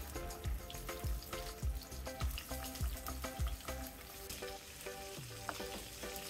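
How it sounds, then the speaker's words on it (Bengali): Chapila fish fry lightly in a little oil in a pan, a continuous close sizzle with a string of low thumping knocks early on and a brief scrape near the end. "তেল দিয়ে আমি হালকা করে মাছগুলোকে ভেজে নেব"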